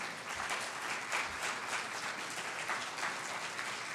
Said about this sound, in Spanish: ¿Puedes darle una ofrenda de palmas?